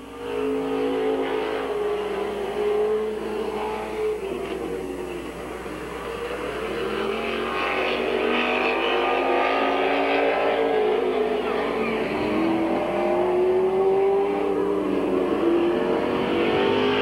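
Race cars lap at Midvale Speedway with a Camaro out front, and their engines hold a continuous loud drone that rises and swells as they pass, with an announcer's voice faintly mixed into the roar.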